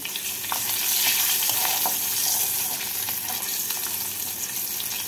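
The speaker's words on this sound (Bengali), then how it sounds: "এই তেলের মধ্যেই আমি দিয়ে দিচ্ছি দুটো কাঁচা লঙ্কা আর হাফ টিস্পুন কালো জিরে ফোড়ন।" Two green chillies and half a teaspoon of nigella seeds crackle in hot oil left over from frying fish. The sizzle is steady and close, with faint pops scattered through it and no speech.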